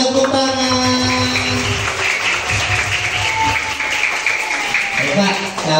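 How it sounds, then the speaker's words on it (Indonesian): Children at a fire station visit clap along in a rhythmic, patterned clapping game while other voices carry over the top, the patter steady and fairly loud. "Tepuk tangan."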